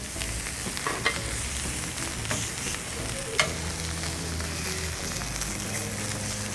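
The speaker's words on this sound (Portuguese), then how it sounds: "Então vamos dar uma trabalhada aqui na chapa, que está mais quente." Picanha beef sears on a hot griddle, giving a loud, continuous close sizzle with occasional scraping and tapping as the meat is turned.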